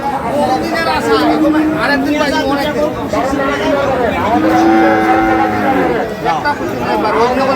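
Cattle lowing repeatedly, loud and close, amid a busy crowd at a Bangladeshi livestock haat in Dinajpur, with several long moos over constant people chatter and bargaining voices.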